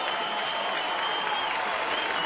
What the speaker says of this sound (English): A well-deserved ovation from this Titan crowd.